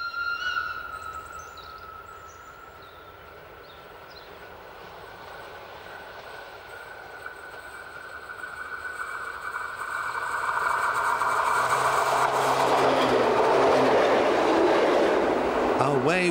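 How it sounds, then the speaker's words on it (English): An Emmental Railway train runs along the Luzern-Bern line onto EBT tracks, a steady rumble with a few faint clicks that swells louder and nearer in the second half as wheels roll over the rails. "our train continues along the Luzern-Bern line, leaving the SBB metals at Obermatt to join the EBT tracks"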